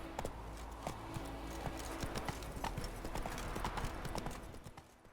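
Roach, the horse in The Witcher 3, clip-clops along at a steady pace, hooves thudding in an even rhythm close by over low ambient game music.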